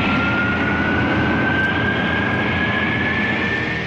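Concorde supersonic airliner climbing out after takeoff from London Heathrow, a steady, loud broadband engine roar with a faint rising whine, continuous and unbroken throughout.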